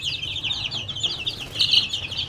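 Young chicks crowd around wet feed, giving a dense chorus of high, rapid peeping chirps close by, with soft pecking and shuffling beneath and no talking.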